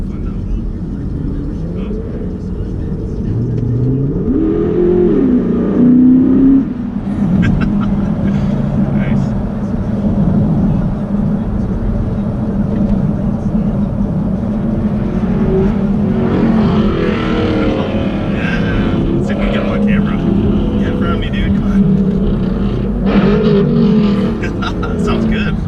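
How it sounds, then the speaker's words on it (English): Engine noise from a Dodge Charger revving alongside a moving car, a loud sustained drone with rising and falling pitch swells, mixed with road and wind noise and people talking over it. "had a little fun back and forth with that guy in the Charger"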